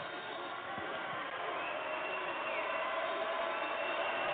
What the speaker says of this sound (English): Crowd here at the Farrell Center getting into it